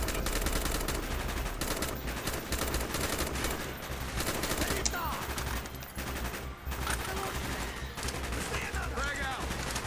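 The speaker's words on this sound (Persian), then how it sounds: "Mason, fire when ready." Gunfire in the video game Call of Duty Black Ops, with rapid bursts of automatic weapons and scattered shots going off continuously amid battle noise, loud and close, with voices briefly audible.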